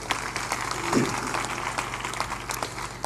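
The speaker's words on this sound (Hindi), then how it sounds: "ताली बजा दो जोर से एक बार।" An audience at a spiritual bhajan gathering claps together in a fairly faint, steady patter of many hands that continues evenly through the moment.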